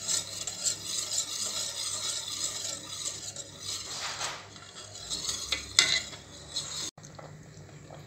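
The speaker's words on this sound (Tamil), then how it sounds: "இன்னும் ஒரு 5 மினிட்ஸ் நல்லா விஸ்க் வச்சு நல்லா கிளறி எடுத்துகிட்டு வந்துக்கிறேன்." Foxtail millet milk pudding is whisked and stirred in a pot, giving a steady, close scraping and swishing rasp with small metallic clinks of the whisk against the pot, continuous for several seconds with no talking.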